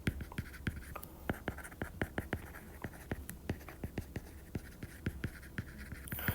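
Pen or pencil writing notes by hand, a steady series of sharp close taps and short strokes with a soft scratchy hiss between them, no talking.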